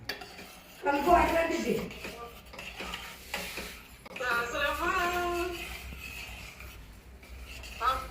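A spoon stirs semiya kesari, a sweet vermicelli dish, in a pan during home cooking, with scraping, clinking strokes and a soft sizzle coming in bursts, fairly quiet, alongside a little background chatter.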